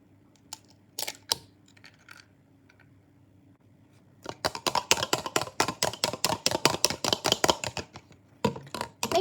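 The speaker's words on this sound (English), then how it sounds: "get an egg and whisk it into a little cup" An egg whisked briskly in a small cup, a fork clicking and tapping rapidly against the sides in a steady, close, fairly loud rhythm after a few quieter taps.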